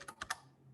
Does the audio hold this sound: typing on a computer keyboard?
yes